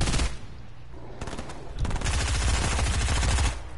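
Rapid gunfire in a video game, a dense burst of cracking shots that swells and holds steady for a few seconds, fairly close and loud with no voices.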